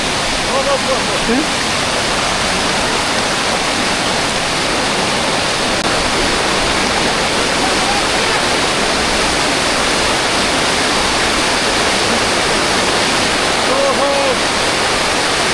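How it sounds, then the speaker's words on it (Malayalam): The Bavali river rushes strongly near the Kottiyoor temple festival grounds, a loud, steady roar of churning water that fills the whole stretch without pause. "ഇത് അർമാദിച്ചൊഴുകണ ബാവലിപ്പുഴ"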